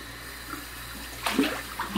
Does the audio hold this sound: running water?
yes